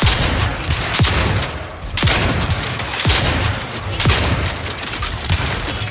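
Turret gunfire in The Outer Worlds 2, loud heavy bursts with sharp booming impacts recurring about once a second over sustained crackling fire, close and dense with no talk.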